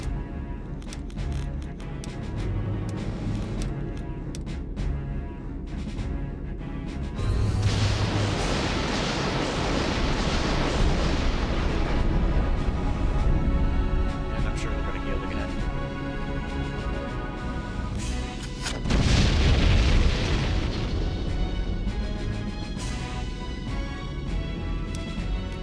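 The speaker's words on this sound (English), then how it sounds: "Yeah, airstrike." Airstrike explosions in a video game, two long roaring blasts that swell and rumble for several seconds each, the second louder, over a steady low background.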